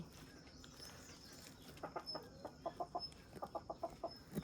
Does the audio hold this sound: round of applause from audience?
no